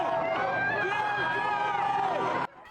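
Mixed crowd of supporters and opponents gathered outside Trump Tower in Manhattan, a loud, continuous babble of many voices with tonal shouting and chanting, close and dense, cutting off abruptly near the end.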